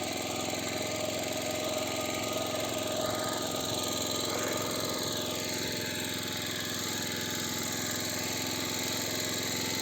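A walk-behind tractor engine runs steadily while cultivating soil in second gear at about 200 rpm with a homemade cultivator in slightly wet ground, a continuous loud near drone with a mechanical rattle and no talk.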